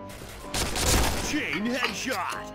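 Rapid bursts of automatic gunfire from an AUG or Kriss rifle shooting bots in the video game Point Blank, dense and continuous, with a voice briefly speaking over the shots.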